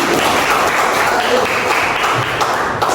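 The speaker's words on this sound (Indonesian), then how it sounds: "Tepuk tangan untuk." Applause from a class or audience at an Islamic religious lesson, steady dense clapping filling the whole stretch, fairly loud and continuous without a clear break.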